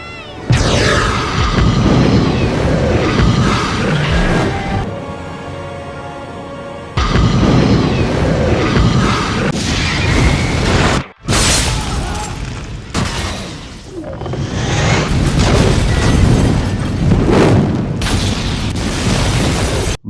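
Loud, heavy explosion booms and rumbling roar in a film continue almost unbroken, with a brief drop to near-silence midway before the blasts resume.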